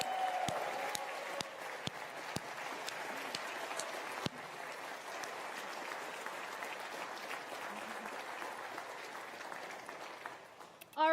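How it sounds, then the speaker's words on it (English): Applause from a large audience at an AMD live stream event fills the space, with a few sharp claps standing out early before settling into a steady roar of clapping. "How about a great round of applause for Renee?"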